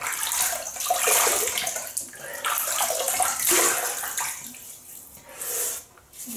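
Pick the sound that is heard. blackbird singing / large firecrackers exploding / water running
water running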